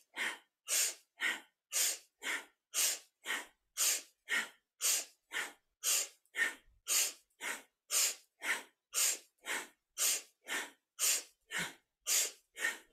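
Forceful, rhythmic breathing during a kundalini yoga lung exercise: about twenty-two sharp, evenly spaced breath strokes, loud and close-miked, with no talking.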